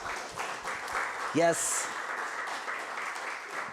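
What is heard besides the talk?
audience applause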